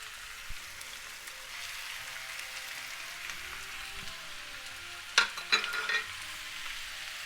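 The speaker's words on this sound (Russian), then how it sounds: "Мясо добавляем к луку для того, чтобы мясо сразу напитывалось при обжарке вкусным ароматом и соком лука." Beef frying with onions in a pan for Hungarian goulash, a soft steady sizzle throughout, with a few sharper crackles and spits near the end, no voices.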